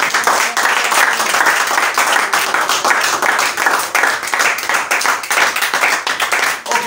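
A church congregation claps and applauds for the Lord, dense and steady hand clapping that stays loud and close throughout, with a few faint voices underneath.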